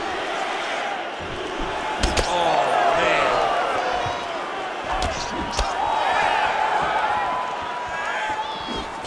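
A UFC 5 arena crowd roars and cheers behind a fighter, a broad swelling din with sharp impact slams, under a commentator's voice and a brief exclamation.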